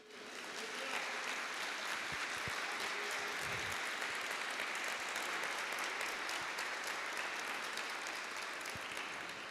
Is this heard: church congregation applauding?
yes